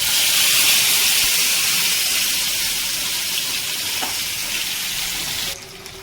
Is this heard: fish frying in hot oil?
yes